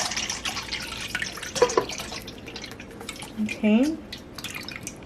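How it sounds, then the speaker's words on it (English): Carnation evaporated milk pours into a Puerto Rican bread pudding mixture, a brief liquid splash and gurgle with a rising filling tone. It is close and moderate, with a voice speaking briefly. "now what I'm going to do is just add my carnation milk"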